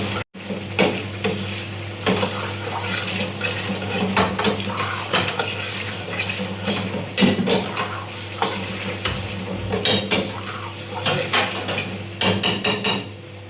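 Fried paneer is stirred in a pan, with a metal spoon repeatedly scraping and clinking against the pan over a soft sizzle, in a busy, uneven rhythm close by.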